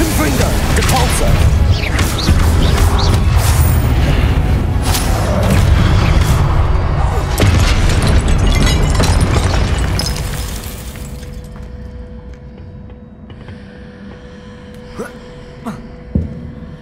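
Spell blasts and explosions in Hogwarts Legacy during the Charles Rookwood trial: loud overlapping booms, crashes and thwacks mixed with vocal grunts, then fading to quieter mechanical clanks and a few sharp impacts.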